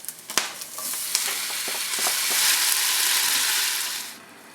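Close, loud sizzle of paella frying in a pan, with sharp clacks of a utensil early on before the hiss swells and fades.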